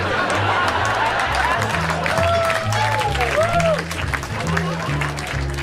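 Stand-up comedy show audience laughing and clapping, a steady wash of applause and crowd noise with laughter rising and falling, loud and full throughout, with a low rhythmic pulse under it.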